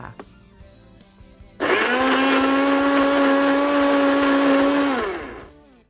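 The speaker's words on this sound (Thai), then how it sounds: "ปั่นทุกอย่างในเครื่องให้ละเอียดเลยค่ะ" A kitchen blender switches on and runs steadily at high speed, finely blending the ingredients with a loud, even whir that holds for a few seconds before winding down.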